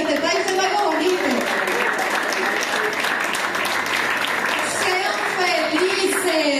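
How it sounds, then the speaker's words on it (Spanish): A church congregation applauding, a dense sustained clapping that fills the whole stretch while voices carry on over it. "Aplauda, joven, que te está diciendo algo bonito"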